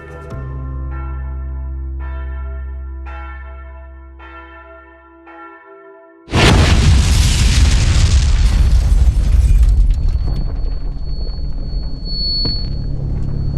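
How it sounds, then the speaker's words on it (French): A heavy dynamite blast blows out a garage wall, erupting suddenly into a loud, broad roar of debris and rumble that lingers for several seconds, following a fading series of deep tolling bell-like tones. "Il sent le souffle de l'explosion qui emporte le mur du garage"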